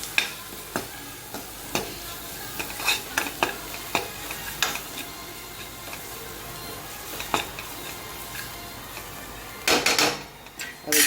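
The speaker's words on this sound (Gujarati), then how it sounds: "સ્વાદ અનુસાર મીઠું, આમચૂર પાવડર, બધો મસાલો આપણે સરસ શેકી લઈએ." Spices, salt, asafoetida and amchur powder roasting in a pan, a soft sizzle punctuated by repeated sharp spatula scrapes and taps, louder clattering near the end, with no talking.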